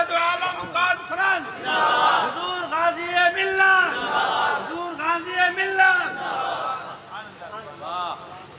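A large crowd at a religious gathering shouts Allahu Akbar in loud, rhythmic unison, repeating the chant several times in answer to a takbir call, the voices swelling and fading with each round.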